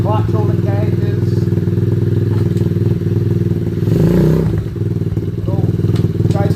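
A 125cc motorcycle engine idles steadily and close by, with a constant rhythmic thrum and a brief rev swell near the end, while a person talks over it.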